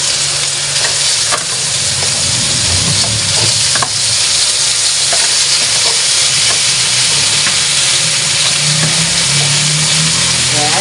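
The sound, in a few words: stirring fried chicken with garlic and onion in pan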